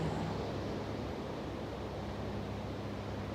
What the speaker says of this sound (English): just relax to the sound of the waves